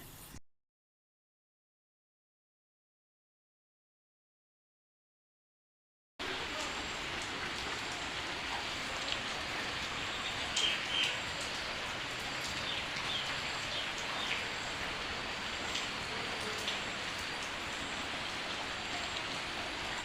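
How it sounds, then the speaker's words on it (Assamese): Light evening drizzle comes in as a soft, steady patter after several seconds of silence and continues evenly to the end. "তাতে আকৌ চিপচিপকৈ বৰষুণ অলপো দি আছে নহয়"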